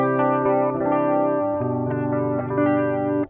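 Guitar notes ring out through a Trial Prime Chorus analog chorus pedal in JC-120 style, their pitch wavering and shimmering strongly as a few plucked tones sustain and overlap.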